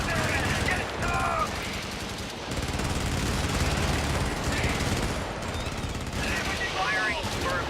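Rapid automatic gunfire rattles in sustained bursts during video game shooting, loud and close, with short pauses between volleys and a voice speaking faintly in the background.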